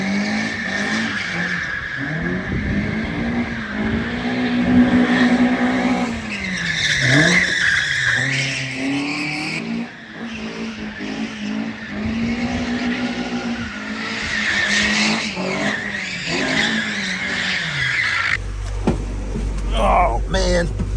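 A Toyota JZ-engined drift car howls and squeals its tires at Fat Five Land in Japan, a loud sustained engine drone rising and falling through long skids, heard up close with voices talking over it.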